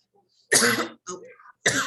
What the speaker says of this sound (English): I'm coughing a lot today.